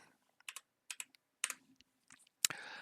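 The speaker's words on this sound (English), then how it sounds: "So you just type in 416" Short bursts of crisp keystrokes on a computer keyboard while entering a search in the Escape from Tarkov flea market, quiet and close, in irregular clusters of clicks with pauses between.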